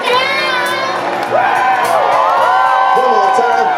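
A concert crowd sings along loudly at an outdoor show at Ste. Michelle Winery near Seattle, many voices blending into a sustained, cheering chorus with occasional whoops throughout.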